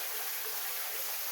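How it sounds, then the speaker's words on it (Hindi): At the ancient Barai Kot fort in Pahargarh, a perennial waterfall stream pours onto a Shiva shrine with a loud, steady, hissing rush of water. "यहाँ ऐसे जब झरना बारहमासी चलता रहता है"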